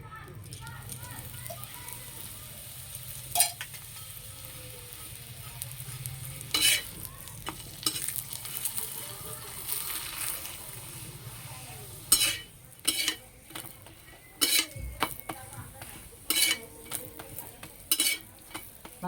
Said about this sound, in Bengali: ভালো করে সেঁকে নিয়েছি, এবার তেল দিয়ে দেব